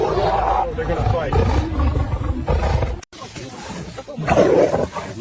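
Lion roaring during a fight with a dog, loud and close, with repeated rough bursts and growls over a few seconds; people shout and talk over it, and there is a brief dropout partway through.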